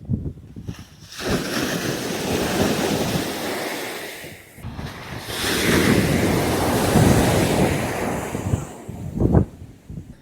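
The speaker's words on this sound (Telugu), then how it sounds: "అలల శబ్దాలు మాత్రం బీభత్సంగా వస్తున్నాయి వింటారా చూపిస్తానండి" Heavy ocean surf crashes repeatedly on a beach in Kollam, Kerala, a loud continuous roar of breaking waves with wind buffeting the microphone and a brief lull midway.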